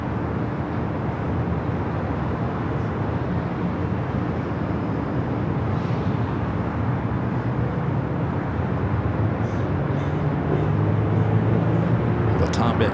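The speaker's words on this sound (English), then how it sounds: "Dreamliner rolling down the 25 right" A Boeing 787 Dreamliner rolls down runway 25 right at LAX, a steady broad engine roar filling the air without pause and swelling slightly near the end, with radio chatter and talk running over it.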